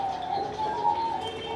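Diamond doves in an aviary give a soft, continuous cooing, close and fairly steady over a quiet background.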